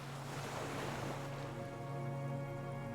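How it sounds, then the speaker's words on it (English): Waves wash by a dock around a swaying skiff in the video game Disco Elysium, a steady close surf with wind rush and a low hum beneath, no voices. "The skiff is swaying on the waves by the dock."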